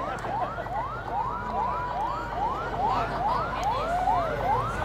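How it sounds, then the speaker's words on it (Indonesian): A car alarm set off by a remote wails in repeated rising and falling sweeps over steady street background noise, sounding like a siren at moderate distance. "remote mobil orang terpencet"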